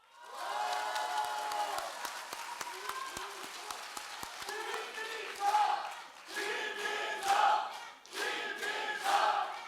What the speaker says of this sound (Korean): 자꾸 박수 치시면 자꾸 더 해야 됩니다